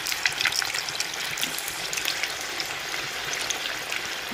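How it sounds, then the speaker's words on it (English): Long-cut potato pieces frying in a pan of oil, a steady close sizzle and crackle with bubbling that runs without pause. "now we shall add this in our oil"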